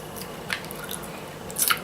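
Chewing a small dried currant from a snack box, with soft, close, wet squishing bites, two brief distinct crunches about a second apart in a quiet room.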